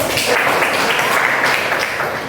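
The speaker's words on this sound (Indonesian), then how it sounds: "kasih lagi sekali lagi aplaus" Classroom applause after a student group presentation, a brief burst of dense, loud clapping from many hands that holds steady throughout.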